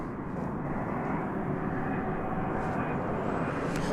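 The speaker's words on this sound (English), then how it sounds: "looks like it's American 2267 off to Oklahoma City. An Airbus A319." An American Airlines Airbus A319 departs DFW Airport for Oklahoma City, its engines giving a steady broadband roar at moderate level throughout, with no talk audible.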